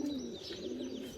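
Several pigeons, including a Maltese-coloured bird, a local desi type and a pink one, coo softly in a steady low murmur with faint chirps mixed in, continuous and moderately close throughout.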